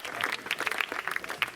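An audience applauds guests at a televised folk culture programme, with a brief burst of many hands clapping at a moderate distance.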